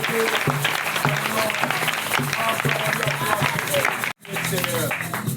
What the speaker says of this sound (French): Acclame un peu pour Jésus.